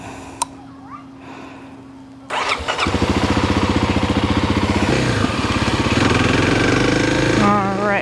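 A Kawasaki KLX 300 dirt bike cranks over and fires up, then settles into a loud, close, rapid single-cylinder chug that rises in revs, with a faint voice early on before the start.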